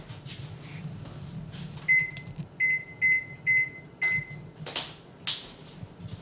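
An oven control panel chirps through a run of five or six short electronic beeps at a steady pace as buttons are pressed to set preheating, close by over a low room hum with a few soft clicks and thumps.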